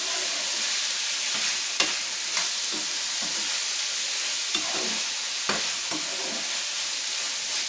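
Ground beef for Thai beef larb sizzles in a pan under a steady frying hiss, broken by occasional sharp scrapes and clacks of stirring.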